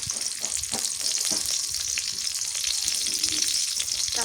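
Chopped onion sizzles steadily in hot oil for a vegetable dish, a constant bright frying hiss with a few soft scrapes, close and alone without any voices.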